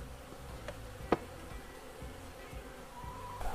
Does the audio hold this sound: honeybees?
yes